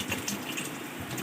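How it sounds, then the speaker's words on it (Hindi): Water poured from a vessel into a cooking pot of spiced stock for aloo matar pulao with potatoes and peas, a steady splashing gush lasting about a second, close and clear with no talk. "अब इस पॉइंट पे हम इतना पानी शामिल करेंगे जितने हमारे चावल हैं"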